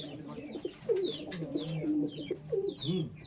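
Pigeons in a loft coo in soft, rolling phrases close by, several overlapping calls repeating steadily through a quiet setting, with a few faint sharper chirps above them.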